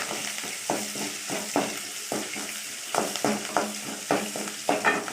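Small onions and curry leaves sautéing in a pan for an ivy gourd stir-fry, a spoon pushing them around in steady rhythmic scrapes over a soft sizzle, close and clear.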